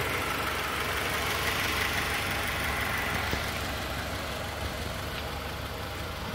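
A recently revived barn-find Honda CR-V with fresh engine and transmission oil idles smoothly, giving a steady, even engine hum with a soft mechanical whir and no voices.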